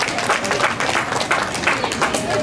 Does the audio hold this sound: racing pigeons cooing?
no